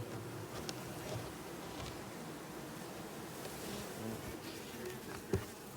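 A swarm of honeybees buzzes in a steady, faint, dense drone that continues throughout, with a small click near the end and no talking.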